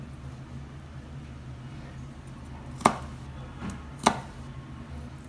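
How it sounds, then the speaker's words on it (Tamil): A knife cuts balsam apple into pieces, two sharp, distinct chops landing on a board about a second apart over a quiet background, close by. "இது ஒரு ஆறு பீஸாக கட் பண்ணணும்"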